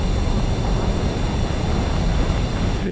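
F-15 jet with a rocket booster in the Delta Force video game, a loud, steady, broadband roar that holds without break throughout.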